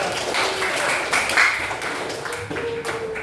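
A classroom full of students applauds a presenting group, with brisk, dense clapping close by that holds steady throughout and some voices mixed in.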